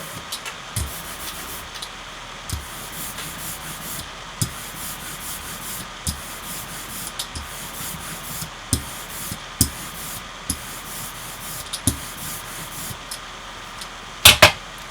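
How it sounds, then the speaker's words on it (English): Cloth or paper rubs ink off a monotype printing plate in repeated soft scrubbing strokes, with light taps and knocks at irregular intervals and a sharper clatter near the end, close and fairly quiet with no talk. "And then let's do a little bit more wiping away."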